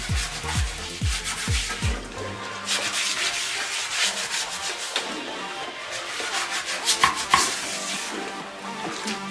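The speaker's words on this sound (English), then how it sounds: "toilet brush and then just finish scrubbing this toilet" A toilet bowl being scrubbed with a toilet brush during black mold removal, with a few quick rhythmic strokes at first and then steady rubbing and swishing close by, no talking.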